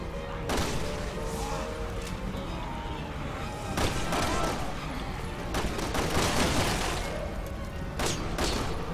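Gunfire from the video game Resident Evil 6, with repeated loud bursts and shots over a dense, noisy game soundscape and heavier clusters of fire, while players talk faintly over the action.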